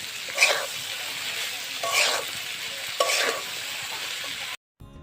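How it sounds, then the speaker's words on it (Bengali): Cut okra sizzles in a pan with potatoes, frying in a steady hiss while a spatula stirs it in three scraping sweeps, ending abruptly in silence. "ঢেঁড়সগুলো কিছুক্ষণের জন্য নেড়ে নিব।"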